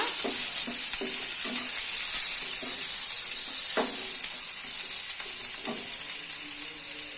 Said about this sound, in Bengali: এবার আমার পেঁয়াজটা ভাজা হয়ে গেছে